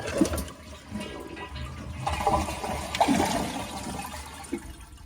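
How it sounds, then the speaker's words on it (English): A Kohler toilet flushes up close, a single steady rush of water that swells and drains over several seconds with no talking. "Flush the toilet."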